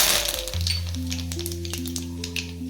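Cumin, turmeric and curry leaves crackle and sizzle in hot tempering oil, a close, steady spitting with sharp pops over a low background hum.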